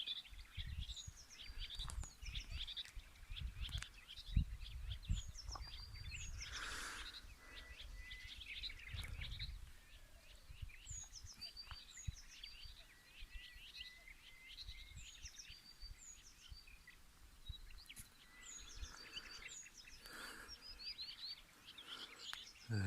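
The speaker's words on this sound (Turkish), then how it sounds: "Şu güzel kuş seslerini dinleyin." Birds sing and chirp repeatedly in short, bright phrases at a moderate distance, over a low, rumbling outdoor background near a railway station and train bridge.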